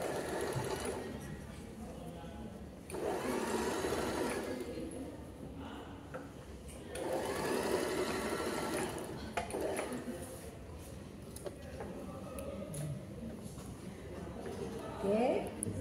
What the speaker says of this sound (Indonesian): terus langsung di